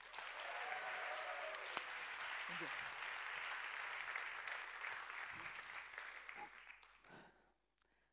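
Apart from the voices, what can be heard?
audience applause welcoming a speaker on stage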